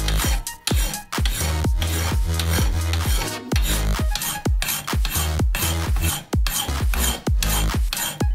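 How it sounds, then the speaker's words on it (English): Hand file rasping across the steel outline of a wizard's staff, steady rhythmic back-and-forth strokes, loud and close, with brief pauses between some strokes and no talking. "as you just saw, I filed the outline to near completion"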